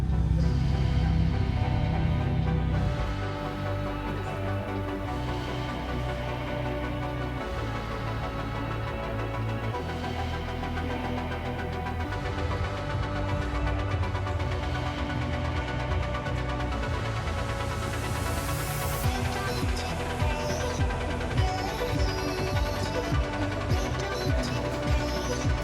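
A CF Moto motorcycle engine, either the 800 MT-X or the 450 MT, runs with a KTM-like note, a steady throbbing drone that idles and then revs and shifts pitch partway through, loud and close with no talk.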